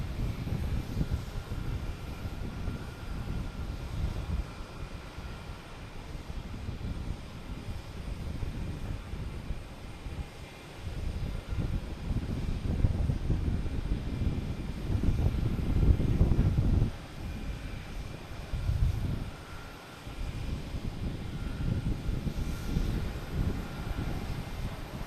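A Challenger 300 business jet coming in to land at Boston Logan Airport gives a continuous low rumbling roar mixed with wind buffeting, which surges and dips over about 25 seconds, with no voices.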